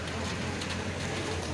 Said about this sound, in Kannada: ಮಳೆ ಬೀಳ್ತಾ ಇದೆ, ಧರ್ಮಸ್ಥಳದಲ್ಲಿ ಮಳೆ ಬೀಳ್ತಾ ಇದೆ.